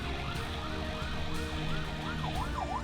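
An ambulance siren sounds during an escort, wailing in quick repeated rising and falling sweeps that speed up toward the end, fairly close, over a low engine and traffic hum with a few sharp clicks.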